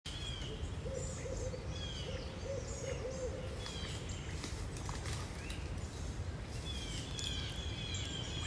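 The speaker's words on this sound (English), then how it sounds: "The owl's going." An owl hoots repeatedly in spring woods, steady low calls drifting in from some distance amid a constant outdoor hiss and scattered chirps of smaller birds.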